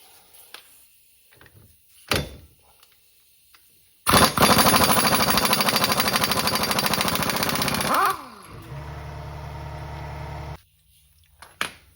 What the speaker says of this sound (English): I'm just going to use an impact.